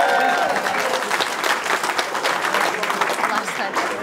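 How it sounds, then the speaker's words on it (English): Wedding guests clapping during a speech at the reception, a lively burst of many hands that stays full and close before easing slightly, with voices mixed in. "So if I can get a little hand clap for that"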